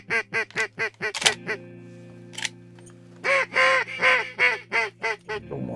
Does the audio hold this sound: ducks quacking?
yes